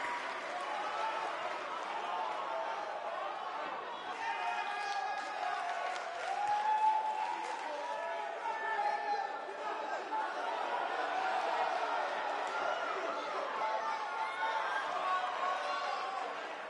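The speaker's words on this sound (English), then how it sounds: "Listen to this crowd" A large arena crowd at a women's professional wrestling event in Chicago roars and cheers steadily for the whole stretch, a dense sustained wall of voices with some mixed calls rising and falling.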